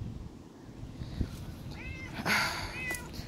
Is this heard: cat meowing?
yes